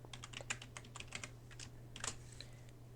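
Rapid typing on a computer keyboard, a quick irregular patter of light key clicks with a few sharper taps, close and quiet over a steady low electrical hum, with no voices.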